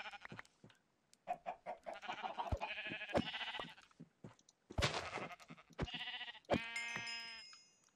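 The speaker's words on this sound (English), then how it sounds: "I'm gonna kill some sheep and so that we have some food." Sheep bleat repeatedly in a blocky video game world, several short nasal calls spaced across the clip with one long, loud bleat near the end, clear and close with no talking.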